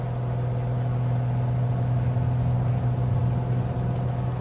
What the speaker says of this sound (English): Revved up, static takeoff